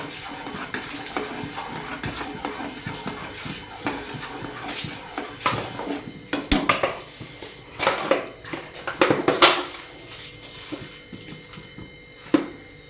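A spoon stirs Karnataka-style tea in a metal pot, repeated clinks and scrapes against the sides that grow louder and busier toward the end, close by with no talking.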